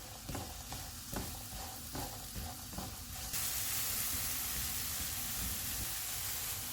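Sliced apples cooking in hot butter with sugar and cinnamon over medium heat, a close, even sizzle; a few spoon taps and stirs early on, then a steadier, brighter hiss.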